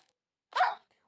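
A single short dog bark from a puppy in the Minecraft video game, crisp and isolated against silence.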